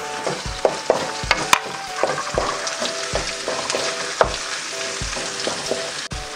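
Ginger and onion hit a hot pan after garlic while beef steak is cooked, giving a steady close sizzle of frying with repeated clacks and scrapes of stirring throughout.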